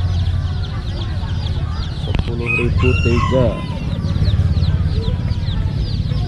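Chickens cluck and a rooster crows amid the busy bustle of a night market crowd, with steady background din and people talking nearby throughout.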